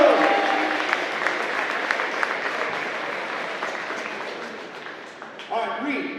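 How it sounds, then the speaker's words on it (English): Audience applause at an invite-only presentation, a steady wash of clapping from a crowd that fades slightly over several seconds before a brief louder burst near the end. "Give her a round of applause."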